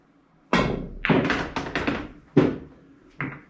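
Pool balls are struck by a cue during a stop-shot practice drill on a pool table, with a series of solid, hollow clacks and thuds at uneven intervals, close and clear, with no talking.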